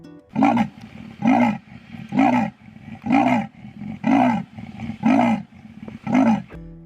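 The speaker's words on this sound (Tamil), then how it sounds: "லெப்பர்ட். அதோட சவுண்ட் இப்படி தான் இருக்கும்." A leopard roars in a steady series of seven deep, rasping bursts, each about a second long with short gaps between, loud and close.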